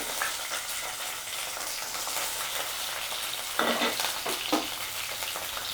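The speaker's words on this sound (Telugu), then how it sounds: "పచ్చిమిరపకాయలు కొంచెం ఫ్రై చేసుకోవాలండి" Green chillies fry in hot oil in a pan for a mint and coriander chutney, a bright, steady sizzle close by. Louder crackling bursts come near the end as they are stirred, and nobody talks.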